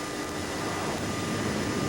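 F-14 Tomcat jet engines running up on an aircraft carrier flight deck, heard as a loud, steady, unbroken roar that fills the whole stretch with no voices.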